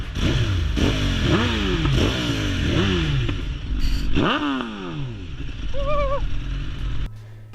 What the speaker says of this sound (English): You can tell it's a BMW mapping because it crackles and backfires at any chance it can.